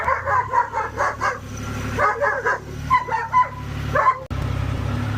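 Dogs inside a workshop bark in bursts of sharp, close yaps and yips that come in rapid clusters, backed by a low steady hum, and end with a sudden thump.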